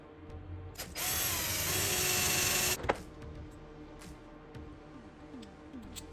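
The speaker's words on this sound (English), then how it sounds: "just drill a little bit of a chamfer there" A power drill whines steadily for a couple of seconds cutting a chamfer in a bolt hole on a Shelby Cobra replica, then stops with a clunk, followed by quieter shuffling and handling noises.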